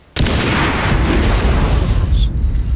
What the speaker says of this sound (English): There could be more explosions!